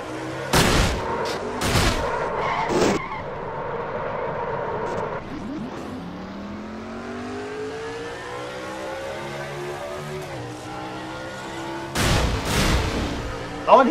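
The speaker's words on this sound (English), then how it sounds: "we had an in-truck camera from Quentin Moore's truck here" Onboard engine of a NASCAR-style race truck at North Wilkesboro, steady loud drone with rising pitch sweeps as it accelerates down the straight, bracketed by sharp bangs and bursts of rougher noise near the start and end.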